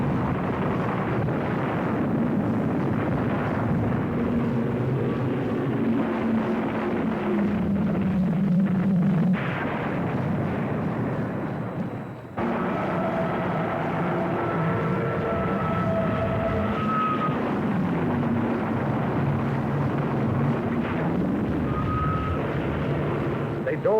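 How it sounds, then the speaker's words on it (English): Loud, continuous roar of hundreds of low-flying land-based warplanes streaking over the sea at a carrier, rumbling engine drone and a brief cut midway, a voice narrating over the din. "Hundreds of land-based planes streaked low over the sea at our carrier."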